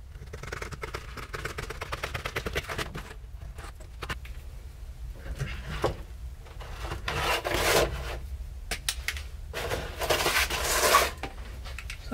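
Rasping, scraping cuts come while trimming a rusty floor section of a Ford F100 truck, close and steady with surges in intensity.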